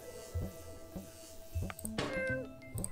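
Cat in the puzzle game Machinarium meowing several times, a series of short tonal cries rising and falling, with a chime-like electronic note near the end and no talk.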